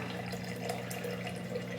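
Water being added to a container while mixing a homemade healing liquid, a steady soft trickling and splashing that runs continuously and fairly quietly with no talk over it.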